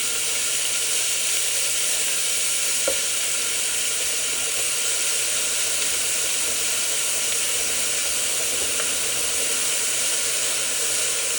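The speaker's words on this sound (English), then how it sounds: "I'm gonna pour our meat in. Listen to that sizzle, that's what you want." Ground meat sears in a hot pan with a steady, broad sizzle that holds evenly throughout, close and fairly loud, and no voices are heard over it.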